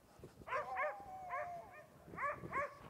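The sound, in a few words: sled dogs barking at expedition camp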